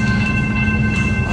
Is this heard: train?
yes